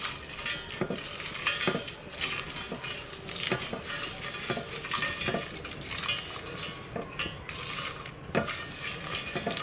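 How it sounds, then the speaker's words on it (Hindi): Whole cumin, black pepper, nutmeg and mace dry roasting in a pan on a low flame, with steady stirring scrapes and light metallic clinks of a spoon repeating throughout, close and fairly loud. "अब इसको हल्की आंच पे 3-4 मिनट रोस्ट करेंगे।"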